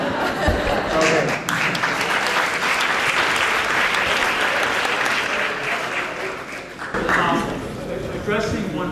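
Conference audience at Copenhagen Business School bursts into sustained, loud applause, dense clapping rolling on for several seconds with a brief dip before resuming.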